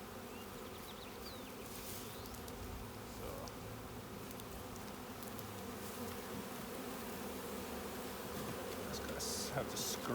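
Steady, dense buzzing of many honey bees during a package install, close and continuous throughout, with faint handling noises and brief quiet voices in the background.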